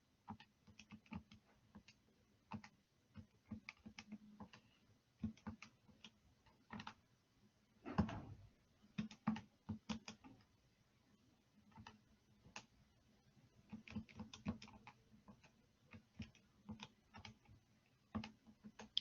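Steady, quiet typing on a calculator or computer keypad while entering a column of data, with irregular rapid clicks continuing alone with short pauses and one brief louder bump.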